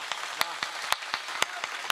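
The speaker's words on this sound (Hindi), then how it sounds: "मुझे उम्मीद थी आप इतनी बड़ी ताली बजा देंगे" Scattered audience clapping at a Hindi kavi sammelan comedy poetry recital, a sparse run of sharp individual claps through a quiet hall with no one speaking.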